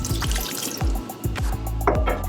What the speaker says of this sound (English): you can add your cold water.